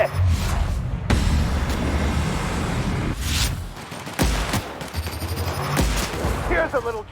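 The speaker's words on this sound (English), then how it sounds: "Opening fire!" Rapid gunfire and booming shots from The Outer Worlds, dense and loud almost throughout, with bursts breaking off and starting again and brief pauses between volleys.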